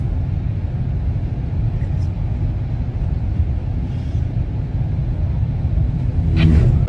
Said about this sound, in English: This helicopter flying really close over 3 cars.